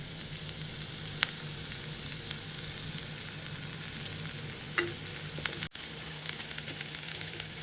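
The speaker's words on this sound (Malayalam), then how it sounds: "ഉള്ളി നന്നായിട്ട് വഴറ്റണം." Onions sautéing in a pan for a beef varattiyathu give a steady, close hiss of frying with a few sharp pops and spatula clicks. The sound cuts off abruptly near the end, then the sizzle resumes.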